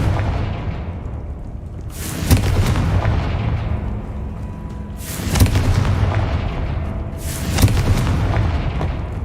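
Blasting-spell explosions in the Hogwarts Legacy video game: three loud, booming bursts spaced a few seconds apart, each with a rumbling tail that fades into a steady low background between blasts.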